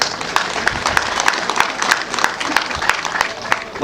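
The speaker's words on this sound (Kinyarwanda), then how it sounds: "Imana rero tuyishimire kandi tuyihe amashyi menshi cyane." Wedding guests at a Rwandan celebration break into a lively round of clapping, a dense patter of many hands with rhythmic, sharper claps standing out, mixed with crowd noise and a voice over it.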